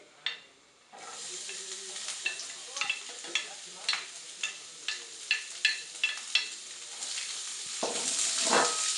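Garlic and fennel frying in hot oil in a pan, a steady sizzle broken by repeated sharp scraping stirs, building to a louder hiss at the end.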